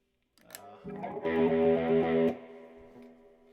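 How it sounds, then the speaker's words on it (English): Distorted electric guitar rhythm chords for the pre-chorus of a rock song, played loud and sustained for about a second and a half after a few brief picked notes, then cut off into a fading ring. "The pre-chorus, we click into some distortion."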